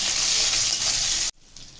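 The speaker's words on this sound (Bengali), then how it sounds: "এবার কুচিয়ে রাখা কাঁচা লঙ্কা দিয়ে দিচ্ছি। কাঁচা লঙ্কাটা একটু নেড়ে চেড়ে নিচ্ছি।" Chopped green chillies frying in hot oil, a loud close hissing sizzle with stirring that cuts off abruptly near the end, leaving quiet background.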